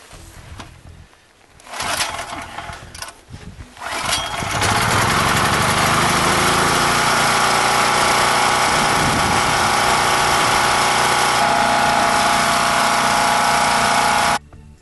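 Champion 3500W/4000W portable generator engine starting up and then running at a loud, steady, even drone for about ten seconds before it cuts off abruptly.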